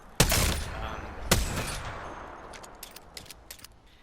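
Two loud, sharp 30-30 rifle shots in the video game Apex Legends, about a second apart, each with a ringing tail, followed by a faint run of quick clicks and rattles.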